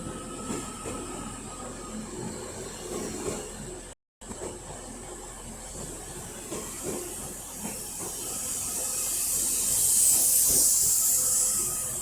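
Class 331 unit 331105 runs through Manchester Piccadilly with a steady rumble and rail noise, then a rising high hiss as it passes close by, with no talk.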